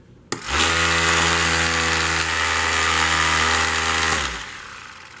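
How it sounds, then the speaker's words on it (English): A car flywheel left spinning at speed after a clutch burnout starts with a sharp click, then holds a loud, steady whirring drone with strong harmonics for about four seconds before winding down. "if you want to see how this looks with the flywheel running at this speed"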